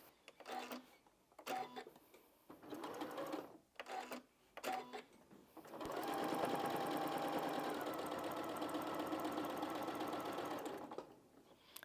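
Short bursts of cloth handling and machine starts give way to a sewing machine stitching quilt-as-you-go patchwork squares for a Christmas cushion, running continuously for about six seconds with a close, steady mechanical whir and rapid needle rhythm.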